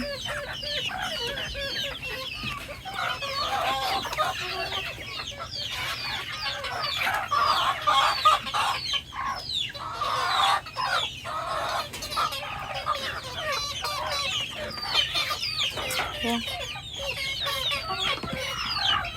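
Several chickens cluck and chatter continuously nearby while eating pasta and pudding, with overlapping calls and soft pecking sounds, no voices.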